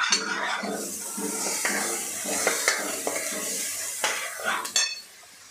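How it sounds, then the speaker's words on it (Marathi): Raw ground masala for egg masala sautéed over medium gas while a spoon stirs and clinks against the pan, sharp scrapes over a soft sizzle that trails off near the end. "छान असं आपल्याला मीडियम गॅसवर हे परतून घ्यायचं आहे"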